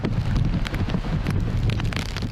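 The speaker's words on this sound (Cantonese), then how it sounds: "由於風勢同埋雨勢強勁" Super Typhoon Ragasa lashes Sha Tin Park's theatre area with strong wind and rain, a loud, continuous rushing roar with gusty buffeting on the microphone and dense rain hiss.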